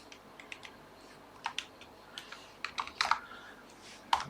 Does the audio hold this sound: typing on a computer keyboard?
yes